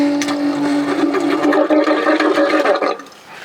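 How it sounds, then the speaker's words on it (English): In a Winnebago Revel motorhome kitchen, the drain pump runs with a rapid buzzing, gurgling whir for about three seconds, then cuts off abruptly into quiet. "one of the very nice things about a Revel is we actually have a drain pump in our kitchen"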